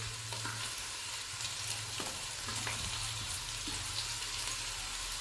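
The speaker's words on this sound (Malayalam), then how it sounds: "ഇനി ഇതിലോട്ട് നമുക്ക് സവാള ചേർത്ത് കൊടുക്കാം. അതുപോലെ തന്നെ നമ്മൾ നേരത്തെ എടുത്ത് വെച്ച ചെറിയുള്ളി." Onions and shallots sauté in a pan for a home-style pork curry, giving a soft, even frying hiss with a low rumble underneath and occasional light clicks of stirring.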